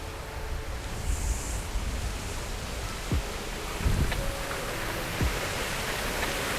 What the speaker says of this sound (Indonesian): Masih juga ngeri ya, udah ada geledek-geledek gini